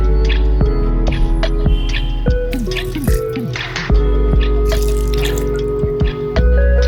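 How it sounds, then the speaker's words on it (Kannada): Water trickles and drips into a wet grinder of ground masala for vandalga chutney over a loud, steady motor hum, with a few short squishy bursts. "ಇದಕ್ಕೆ ಇವಾಗ ಒಂದು ಸ್ವಲ್ಪ ನೀರು ಆ್ಯಡ್ ಮಾಡ್ತೀನಿ"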